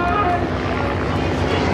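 De Havilland Chipmunk trainer aircraft passing at an airshow, a loud sustained propeller-engine drone with a steady tonal hum and wind buffeting, all over the short stretch.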